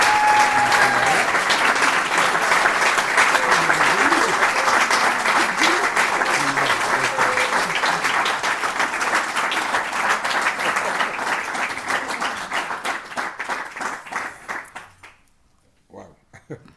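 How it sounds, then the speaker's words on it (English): Loud, sustained applause from a convention audience fills the space for about fifteen seconds before tapering off quickly into quiet. "Give him a round of applause, everybody"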